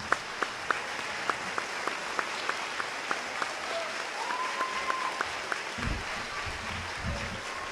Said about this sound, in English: Audience, please stand and join with me and give Coach a round of applause.